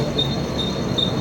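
A Mumbai local train carries on at steady volume through the whole stretch, with a constant rumble and faint recurring high wheel squeals. No one speaks.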